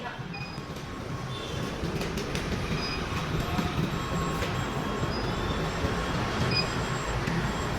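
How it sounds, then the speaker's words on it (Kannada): A metro train at a Bangalore station rumbles continuously and loudly, with rolling wheel noise and faint high squeals over the whole stretch, and no voices. "ಇವಾಗ ಮೆಟ್ರೋ ಸ್ಟೇಷನ್ಗೆ ಬಂದೀವಿ ಈಗ"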